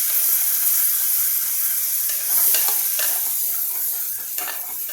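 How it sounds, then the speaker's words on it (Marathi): Ground masala paste for pav bhaji sizzles and sputters in a pressure cooker while being stirred, a continuous bright hiss broken by several sharp scraping strokes, close by and with no talking. "आता चांगला खमंग वास सुटलेला आहे आता आपण हे सातळतोय बघूया"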